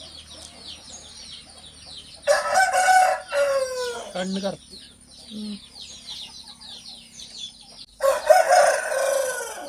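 An Aseel Kerala rooster of about 3.5 kg crows on a farm, with two drawn-out, strained crows a few seconds apart and clucking between them. Someone speaks briefly nearby.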